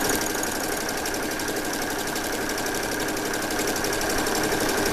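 A sewing machine runs continuously, stitching around a tote bag along a one-inch seam line, its fast, even mechanical whir and rapid needle clatter steady and close throughout with no pauses.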